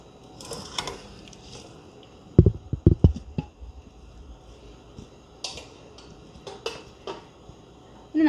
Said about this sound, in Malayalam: അപ്പം നമുക്ക് വേവിച്ച് വെച്ചിരിക്കുന്ന കപ്പ ഇനി ഇതിലേക്ക് ചേർത്ത് കൊടുക്കാം